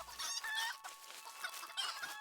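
Chickens cluck in a video game, several quick close clucks and squawks in brief bursts with short gaps between them.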